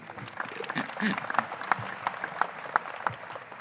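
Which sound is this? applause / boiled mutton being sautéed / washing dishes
applause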